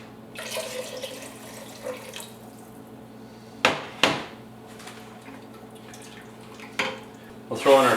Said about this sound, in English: We'll add a little bit of water to that.